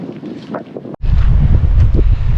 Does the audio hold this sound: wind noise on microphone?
yes